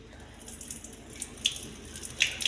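Quiet running water from a tap with a few splashes and rinsing sounds as soaked red rice is washed.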